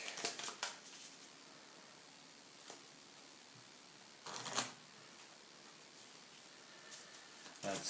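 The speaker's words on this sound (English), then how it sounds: "Let's shuffle the Evolve deck." A deck of cards for the Apex board game is shuffled in short bursts of riffling and flicking, close and quiet, with faint rustles and silent gaps between them.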